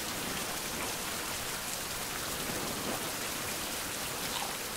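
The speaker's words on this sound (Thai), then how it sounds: "อย่าออกฝนให้มากนะเดี๋ยวจะเป็นหวัดนะครับ" Steady, dense rain pours continuously in a tropical jungle survival game, a close, even hiss filling the scene with no talking.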